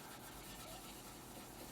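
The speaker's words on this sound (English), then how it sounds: "you can just sand off our the black paint that we've just done" Faint, steady rubbing of sandpaper taking black paint off a 1/48 scale Airfix BAe Hawk T1 Red Arrows plastic model kit, a soft continuous scratching with no talk.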